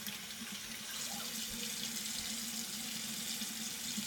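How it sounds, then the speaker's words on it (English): A bathroom tap runs steadily while a Clarisonic facial brush is rinsed under it, a constant close splashing flow with no talk. "And then I rinse my Clarisonic off first."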